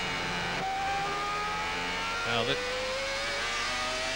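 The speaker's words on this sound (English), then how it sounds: "we're with Michael Schumacher now, going through to complete another lap, to complete the 36th lap" A Formula One race car of 1995 laps the Aida circuit at the Pacific Grand Prix, its engine a high, sustained whine that shifts pitch through the gears, heard as steady broadcast background with no clear pauses.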